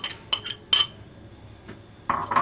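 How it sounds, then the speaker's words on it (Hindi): Potatoes are dropped into a cooking pot and stirred with a metal spoon, producing several close, sharp clinks and scrapes against the pot with quiet gaps between them and no talk. "आलू डाल के मिक्स करते हैं सबको।"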